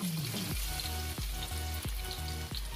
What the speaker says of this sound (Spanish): A que se fríe